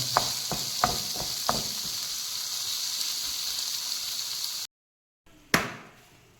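Coriander stems sautéing in a hot pan for an egg dish, a steady close hiss of frying with a few sharp spoon taps at the start, then a brief cut to silence before another scrape.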